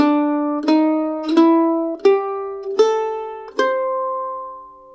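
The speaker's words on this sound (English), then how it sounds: "So here I play a little melody line without the ghost note." A mandolin plays a simple melody line of six plucked single notes, each ringing out and fading before the next. The picking is clean with no ghost-note strumming, and the instrument is heard alone and close.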